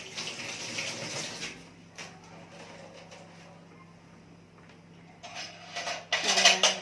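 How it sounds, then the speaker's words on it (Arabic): Water running from a kitchen tap while hands are washed, a steady splashing stream that swells louder near the end, with faint clinks of dishes in the background. "استنى اغسل ايدي ثواني"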